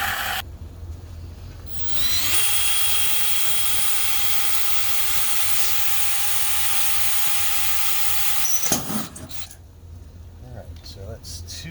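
A power drill bores into a wall to mount a Tesla Gen 3 Wall Connector charger. It gives a loud, steady whine for about six seconds, with quieter handling sounds before and after.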